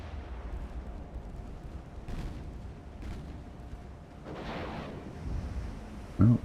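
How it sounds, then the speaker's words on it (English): Torpedoes launched from a warship in the naval battle game Ultimate Admiral: Dreadnoughts, heard as a few muffled booms and whooshing bursts over a low rumbling sea-and-engine bed, with a louder pair of thumps at the end. "Oh, we launched torps."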